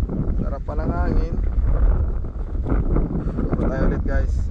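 Steady outdoor wind rumbles and buffets the microphone throughout, with someone talking over it in Filipino.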